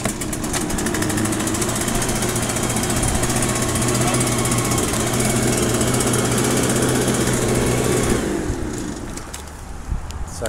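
Several pieces of lawn care equipment, one with its small engine running loudly and steadily at close range for about eight seconds before cutting out abruptly, leaving quieter background noise.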